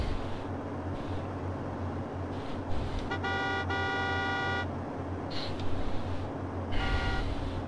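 Car horns honk in repeated bursts during an online Class 1 race in Need for Speed Hot Pursuit 2, loud over a constant engine drone, with a long sustained blast in the middle and shorter toots later.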